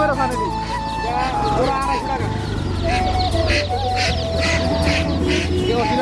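Tiger chickens cluck and squawk repeatedly at a busy poultry market, with people talking over them and a crowing call in between.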